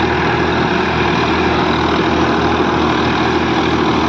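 Two Massey Ferguson tractors, an 8055 and a 245, run their engines side by side in a steady, loud, continuous diesel drone with no talk over it.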